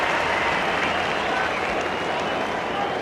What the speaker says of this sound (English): Big cheer from the crowd behind him.